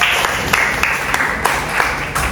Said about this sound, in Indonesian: Tepuk tangan dulu untuk Fatir.